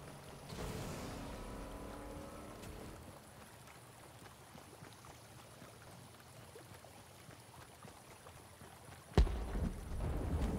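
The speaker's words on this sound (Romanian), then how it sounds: "mi-e place cu barca, dar se conduce greu și așa scandal face să vede toată lumea" A motorboat engine in the video game Fortnite drones steadily alongside rushing, splashing water. The sound stays fairly even throughout, with a sudden sharp knock near the end before the wash picks up again.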